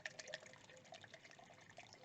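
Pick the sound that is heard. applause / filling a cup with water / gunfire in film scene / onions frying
filling a cup with water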